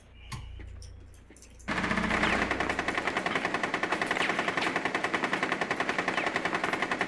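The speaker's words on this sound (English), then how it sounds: "Stop shooting!" Close rapid automatic gunfire erupts after a quiet start and continues as a fast, even stream of loud shots to the end.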